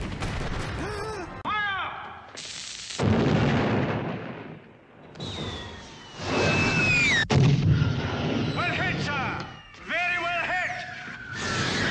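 Heavy pirate-ship cannons boom in a film battle scene, several loud blasts spaced apart amid shouting voices, whistling and clattering action sounds.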